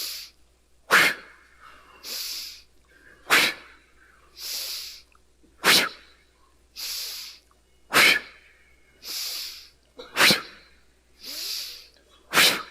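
Forceful breathing exercise led at a talk: sharp, loud exhalation bursts alternate with long hissing inhalations in a steady rhythm of about five cycles, close and clear, with no talking.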